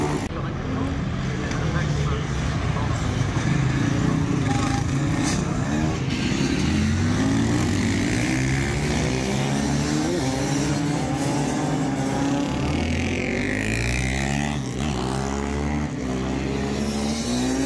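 Supermoto motorcycles accelerate onto the straight at the Superbiker race in Mettet, with continuous loud engine roars rising and falling in pitch as bikes pass, under a commentator's voice.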